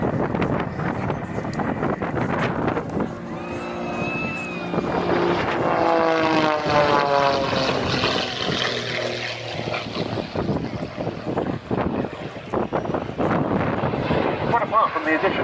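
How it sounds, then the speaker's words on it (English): A heavily modified Pitts Special aerobatic biplane fitted with gas turbine engines performs at the Duxford summer air show. Its engine roar rises and falls with shifting pitch under a commentator's voice and wind noise on the microphone. "apart from the addition of the gas turbine engines, this is a very heavily modified pit special."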